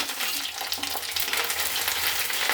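Onions sizzle steadily in hot oil in a pan with a couple of dried red chillies, a dense continuous crackle that stays close and loud throughout, with no voices.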